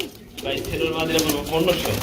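Female pigeons at a market stall giving low cooing calls close by, partly under someone talking.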